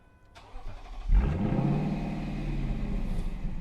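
A car's engine cranks and fires with a sharp bark, then settles into a deep, steady idle that fades slightly, heard close up in a quiet space.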